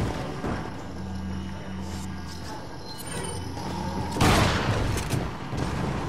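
Shotgun fire in the video game Resident Evil 4 rings out amid other game sounds, with a sharp loud blast about two-thirds of the way through and scattered thumps and booms before it.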